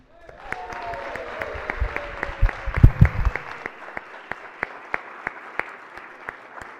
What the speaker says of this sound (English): give a round of applause to my daughter, Kennedy Corey McCrae.